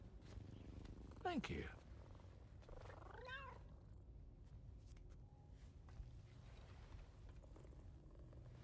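A cat in Death Stranding 2 lets out a rising meow and a second bent, wavering call a few seconds later, both over a steady low purr-like rumble and faint game ambience, with a brief spoken phrase.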